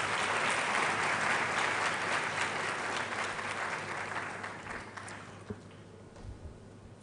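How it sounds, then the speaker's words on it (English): A college congregation audience claps loudly and continuously, then the applause gradually fades away to near silence. "let's give him another round of applause."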